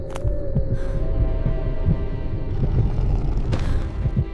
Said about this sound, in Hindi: अन्विका का दिल इतनी तेजी से धड़क रहा था कि उसे खुद अपनी धड़कन सुनाई देने लगी